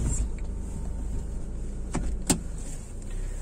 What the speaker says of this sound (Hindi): मैं इसको ये आगे और ये पीछे मूव कर सकता हूँ।